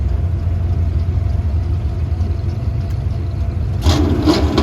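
A 1992 Corvette waits at the start line of an autocross run at a Goodguys car show in Colorado. Its engine rumbles low and steady at idle, then jumps into a louder rev burst near the end.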